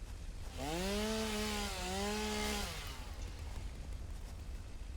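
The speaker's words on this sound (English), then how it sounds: "the chainsaw doesn't affect the food plants unless you specifically try to cut it down" A chainsaw in the video game Satisfactory cuts through plants with a rising, buzzing motor whine that dips briefly mid-cut, lasting about two seconds before cutting off, loud and alone.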